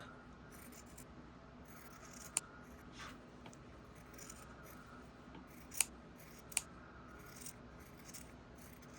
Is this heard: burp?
no